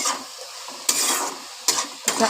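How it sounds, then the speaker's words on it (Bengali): Greens and potatoes fry in a pan while a spatula stirs and scrapes through them in several strong strokes over a steady sizzle, close and clear, with no speech. "এবার আমি ভালো করে নাড়াচাড়া করে নেব"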